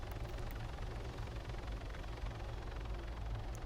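A helicopter in a video game, over Altis, drones with a low rotor rumble, steady and continuous, a dull pulsing thrum with no voices over it.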